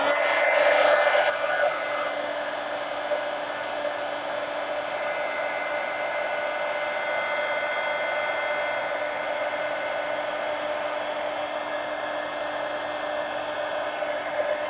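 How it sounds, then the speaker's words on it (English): Heat gun blowing hot air over wet ink on a magazine journal page, a steady whooshing roar that holds for the full length with a louder burst at the start. "let me hit this with the heat gun"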